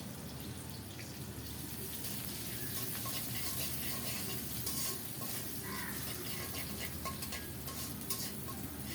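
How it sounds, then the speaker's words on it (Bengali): Chopped onion frying in mustard oil, a steady soft sizzle that holds at a low level and runs continuously from start to finish with no pause. "সরিষার তেল দিলাম, পেঁয়াজ কুচানো দিলাম ফোড়নে"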